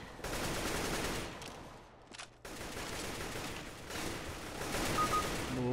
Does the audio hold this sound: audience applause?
no